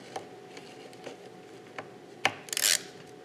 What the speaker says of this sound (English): I'm just going to use my screwdriver instead because that can actually get in there